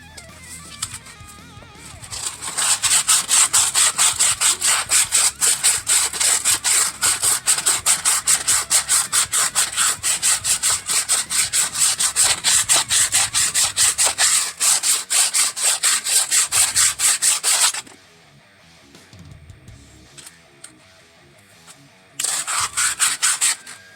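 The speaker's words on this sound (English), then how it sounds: "Also sand and clean this surface" A Prius front wheel hub bearing surface being sanded clean by hand, with rapid rhythmic back-and-forth rubbing strokes, loud and close, for about fifteen seconds before a pause and a brief final burst.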